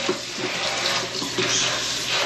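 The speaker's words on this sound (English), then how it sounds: "I'm just going to go ahead and rinse it again" Broccoli rinsed under a running kitchen tap, a steady close hiss of flowing water with slight splashing surges as the florets shift under the stream.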